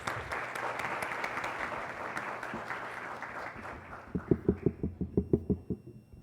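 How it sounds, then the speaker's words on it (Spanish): Audience applause at a legal panel on artificial intelligence in the Dominican Republic, a steady broadband patter of many hands that thins out near the end into a few distinct, louder claps. "Un aplauso, por favor"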